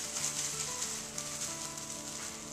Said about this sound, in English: now I'm just going to seal it up and shake it to mix everything together